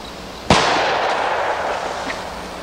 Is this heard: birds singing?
no